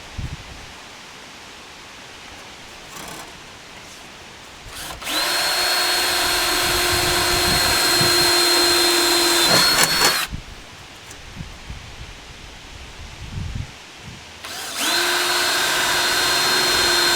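A power drill bores holes for rivets in diamond plate, two long whining runs of about five seconds each, the second cut off at the end, separated by quieter rustling and handling sounds.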